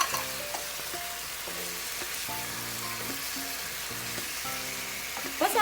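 Chicken karahi frying in a pan as fried onions are stirred in, a continuous soft sizzle with occasional spoon scrapes, with faint tonal background music beneath.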